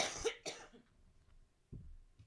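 A single close cough, followed by a couple of softer throat sounds and a faint rustle after a pause.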